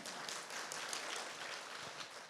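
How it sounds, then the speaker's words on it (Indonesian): A church congregation applauds during a worship service, a dense patter of many hands clapping steadily at moderate distance, fairly soft and continuous with no speech over it. "Tepuk tangan dong ya"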